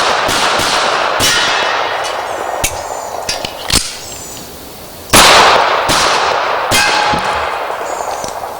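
Rapid 1911 pistol shots ring out in quick bursts during a timed shooting drill, sharp and loud, with a brief pause before another string of rounds.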